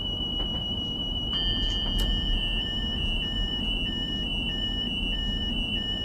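In a train simulator game, an electronic alarm tone beeps in a steady, repeating pattern over a constant low rumble of machinery.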